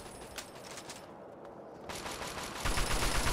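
Gunfire in a modded Fallout 3 Operation Anchorage simulation, with rapid bursts of shots that grow denser and louder toward the end, heard over a steady background of game noise.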